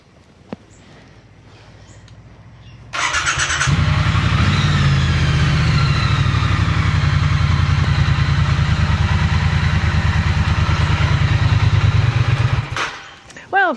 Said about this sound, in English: run the bike until it is warm